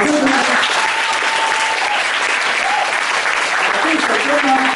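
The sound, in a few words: audience applause at a concert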